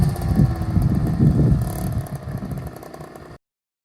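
KTM 65 dirt bike engine running just after a start, a loud close small-engine drone with rattly clatter that eases back and then cuts off abruptly.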